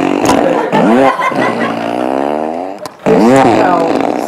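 A long, loud, buzzing fart-like blast, sustained for several seconds with a wavering pitch, followed after a brief pause by a second strong burst, heard up close with nothing else over it.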